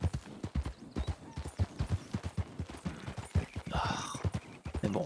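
A horse in the video game Red Dead Redemption trots with steady, rhythmic hoof clip-clops, close and clear, with a brief whinny-like sound near the end.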